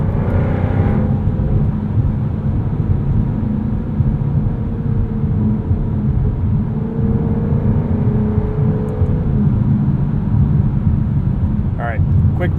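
A 2023 Jaguar F-Type R Coupe engine drones steadily while driving in drive mode, a dense low rumble with road noise that holds constant throughout, loud and close from inside the cabin.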